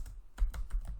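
A short burst of typing Python code on a computer keyboard: a few close, distinct key clicks in quick succession over a quiet background.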